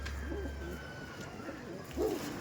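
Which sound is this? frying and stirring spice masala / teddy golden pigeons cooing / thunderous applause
teddy golden pigeons cooing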